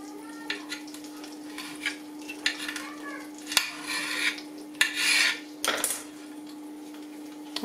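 Tacos frying in a pan until browned, heard as a soft steady sizzle punctuated by irregular clinks and scrapes of a utensil stirring and turning them against the pan.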